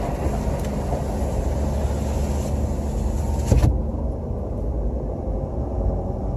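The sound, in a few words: Ford F450 pickup truck driving over gravel parking lot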